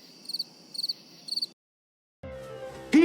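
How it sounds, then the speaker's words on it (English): Three quick bursts of high cricket-like chirping over a low background hum, each a short trill, followed by silence and then a different tonal sound toward the end. "Crickets?"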